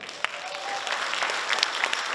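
Applause in the hall at a men's fitness bodybuilding competition, a dense wash of clapping from a large audience that holds steady throughout.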